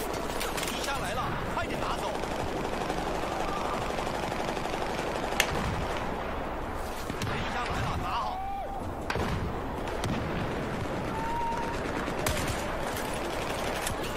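Gunfire in the Battlefield 4 video game during an assault on a flooded area, with shots and bursts cracking repeatedly through a dense, continuous battle din while a player talks over it.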